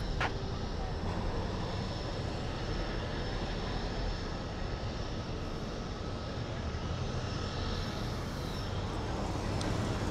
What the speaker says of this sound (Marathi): C plain.